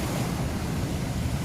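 Wild ocean surf at the rocky shore by a torii gate at Oarai's Isosaki Shrine crashes and splashes in a loud, continuous roar, with strong wind buffeting the microphone.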